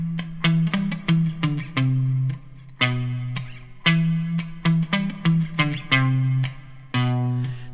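An electric guitar plays the main riff of a song through distortion and effects, giving a sequence of heavy, sustained low notes in the familiar repeating rhythm, clear and alone.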